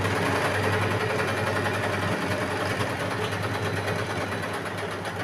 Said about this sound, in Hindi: बकरम के किनारे किनारे सिलाई चलानी है